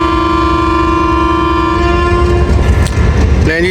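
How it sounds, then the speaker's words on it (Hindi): A Khyber Mail train sounds a long, loud, steady horn as it departs Lala Musa Junction in Pakistan. The horn then breaks off into rumbling train noise with a short rising squeal at the end. "नहीं जी, पूरे 6 बजे खैबर मेल निकल रही है 2 डाउन लाला मूसा जंक्शन से"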